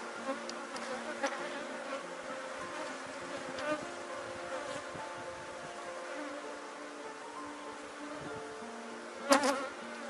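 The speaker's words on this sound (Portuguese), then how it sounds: "O enxame que tá muito bom, tá bonito." Honeybees hum and buzz softly and steadily inside a hive, a faint continuous drone with brief louder bursts near the end, no voices.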